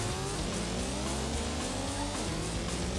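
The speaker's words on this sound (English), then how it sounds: "The sound of multiple engine noises." Several engines in the video game Road Rash drone and whine continuously with shifting pitch, like cars racing together, loud and steady with no pauses.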